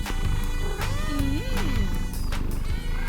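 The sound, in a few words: cat sounds in cartoon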